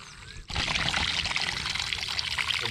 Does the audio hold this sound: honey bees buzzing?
no